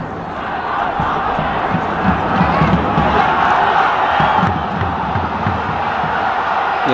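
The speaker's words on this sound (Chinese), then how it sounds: "现场观众爆出了一阵欢呼声" Stadium crowd at a Chinese Super League football match between Tianjin Teda and Shanghai SIPG, a loud sustained roar of cheering that swells and holds throughout with dense voices.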